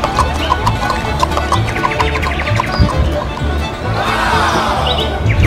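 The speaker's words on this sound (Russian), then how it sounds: "Смотри, какая лошадка, дочь." A horse at a petting zoo, with a soft run of hoof clops and a faint whinny-like call amid outdoor noise and background voices.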